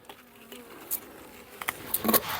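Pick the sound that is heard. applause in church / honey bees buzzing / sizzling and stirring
honey bees buzzing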